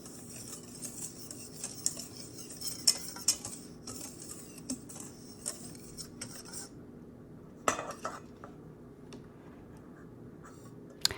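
Sugar and cornstarch being mixed in a bowl for a homemade chocolate pie filling: light scraping and ticking clinks of a utensil against the bowl, steady and close, with no talking.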